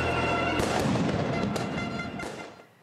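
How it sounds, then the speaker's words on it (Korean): Fireworks explode in the streets during a Napoli fans' football championship celebration. A few loud cracking bursts rise over a dense, noisy crowd roar, then fade at the end. "와, 폭죽 소리도 대단하고요"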